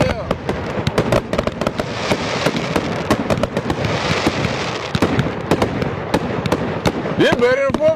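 A rapid, continuous barrage of celebratory fireworks crackling and booming overhead for a birthday, loud and dense throughout with people's voices underneath.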